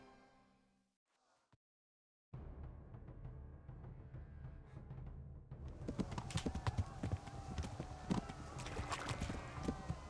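Horse hooves from riding in the video game Kingdom Come: Deliverance, starting near silent, then a steady rhythmic clip-clop of galloping that grows louder and busier toward the end, with no talking.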